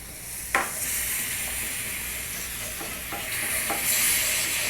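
Spoon stirring salt, rasam powder and brown sugar together in a pan for an Indian dish, a steady sizzling hiss with a few soft scraping clicks, close and alone.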